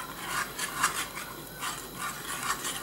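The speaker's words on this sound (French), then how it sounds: "Voilà, vous mélangez bien comme il faut avec le fouet." Whisk stirring thickening crème pâtissière in a pan over low heat, a steady soft scraping and rubbing with rhythmic strokes, close and continuous.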